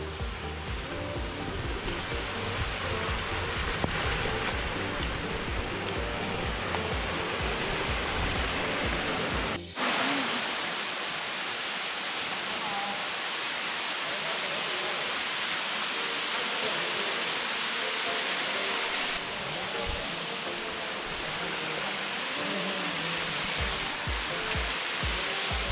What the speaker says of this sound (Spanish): estamos cruzando por el arroyo